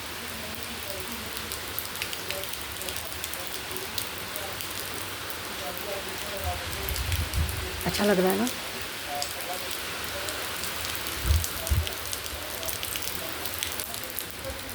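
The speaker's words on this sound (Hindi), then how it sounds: "बाहर बाहर में अभी बारिश हो रही है, और देखिए कितनी अच्छी बारिश हो रही है।" Rain falls steadily outside, a constant soft patter and hiss throughout, while someone speaks briefly and faint thumps sound nearby.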